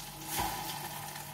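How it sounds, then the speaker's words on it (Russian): A faint, steady sizzle of food frying in a pan is heard briefly at close range. "пусть жарится."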